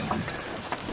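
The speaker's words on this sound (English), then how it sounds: "I'm chilling at the shelter, seeing what this rain's gonna do." Steady rain falls at a trail shelter during a 2022 thru-hike, a soft, even hiss of drops with no voices.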